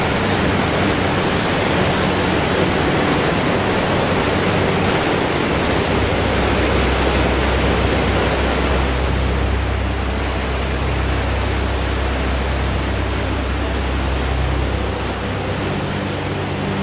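Linhope Spout, a waterfall in the Northumberland hills, heard close up as a loud, continuous broadband rush of falling water with no voices, steady for the whole stretch apart from a slight deepening of low rumble partway through.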